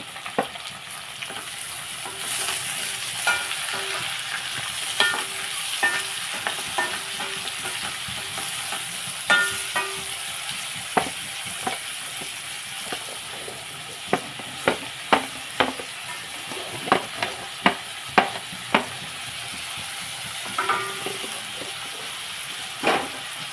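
Onions and green chillies fry in a pan with a steady sizzle while a spoon stirs them, giving repeated sharp scraping clicks that grow busier toward the middle.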